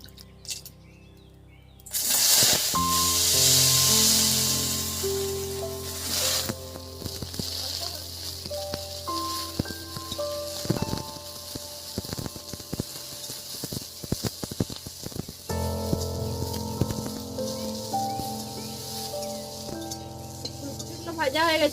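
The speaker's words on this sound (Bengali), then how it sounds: "ফুলকপিগুলো ভেজে নেব।" Cauliflower florets frying in mustard oil in a wok, with a loud hiss of hot oil starting after a couple of seconds, then steady sizzling broken by clinks and scrapes of a spatula stirring close by.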